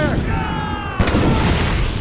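A ship's cannon fires in an Assassin's Creed Rogue naval battle: one deep, loud boom lands midway through a dense bed of shouting crew voices and rushing sea noise.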